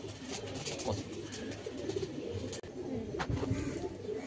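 Soft, low pigeon cooing close by, a few murmuring coos over a busy background of other birds chirping.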